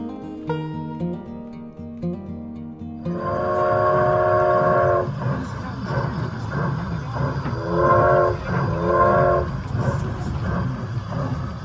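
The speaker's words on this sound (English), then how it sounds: "The train ride is only 15 minutes." A train rumbles along the rails with a steady low roar, and a horn or whistle sounds in repeated tonal blasts over the running noise.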